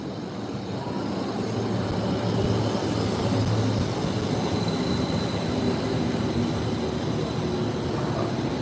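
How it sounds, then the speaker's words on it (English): A steady rumbling sound of a modern Swiss RABe 511 electric train arriving at a station, with broadband rail noise, holding at a constant moderate loudness throughout, with a faint high whine above. "let's look at the train which is arriving now. It's a more modern machine."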